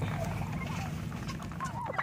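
Four-month-old Bourbon Red turkeys let out of their pen give short, wavering honking calls, several overlapping over a low rumbling background, moderately close with no talking.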